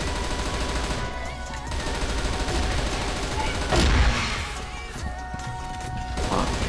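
Gunfire from the Kriss Halloween weapon in the shooter game CF West crackles in loud bursts and rapid volleys, with a heavy blast midway, over dense game noise with faint voices in the background.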